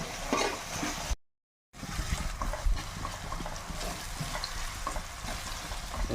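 Ginger frying in a pan for a fish curry, giving a steady low crackling sizzle with a short silent break and light stirring sounds.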